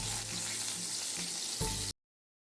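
Spices sizzle in hot oil in a pan while a bitter gourd curry is cooked, a steady close crackling hiss with a brief louder surge near the end before it cuts off.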